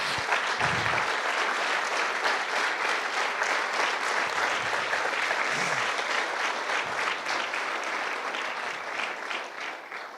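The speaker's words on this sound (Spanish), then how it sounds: "dale un fuerte aplauso al Señor" A church congregation claps together in sustained, dense applause that fills the whole stretch at an even level, with no talk over it.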